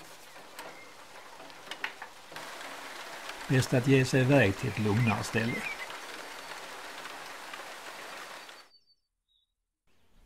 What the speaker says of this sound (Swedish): På väg ut ur växthuset blir bocken överraskad av en regnskur.